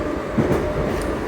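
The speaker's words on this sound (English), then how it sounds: "I believe it is an old tube train, which has been updated, modified" An old London tube train reused on the Isle of Wight line rumbles steadily from close by, a dense continuous roar with a faint brief squeal near the end and no voices.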